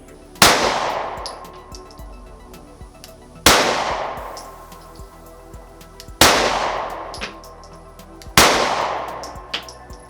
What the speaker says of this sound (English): I'm going to take a few more shots and show you what I mean.